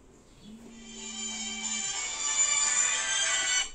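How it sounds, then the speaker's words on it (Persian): A mobile phone ringtone plays inside a clothing shop, a short electronic melody rising in loudness over a few seconds, heard alone. "میترا تلفنت"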